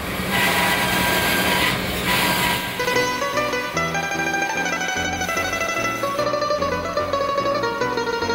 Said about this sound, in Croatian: I onda sam ja kupio si nekakve strojeve i ja pomalo na to režem